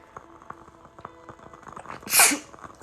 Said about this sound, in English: Sorry, I had a sneeze.